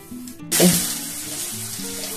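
Chicken for chilli chicken sizzles in a covered pan, bursting into a bright crackle when it hits the hot oil and then settling into a steady frying hiss over a faint tonal background.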